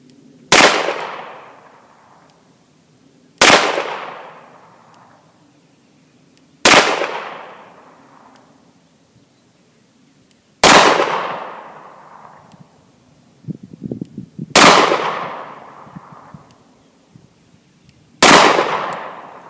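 Six sharp shots from a Smith & Wesson 686 revolver fired at a target, each a loud close crack with a ringing decay, spaced a few seconds apart, with faint handling noise between two of them.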